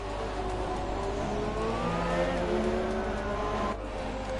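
The engine of a Sauber race car in F1 2017, during an Australian Grand Prix race in the video game, drones steadily under light throttle. Faint rising and falling engine tones from other cars pass under the loud constant roar.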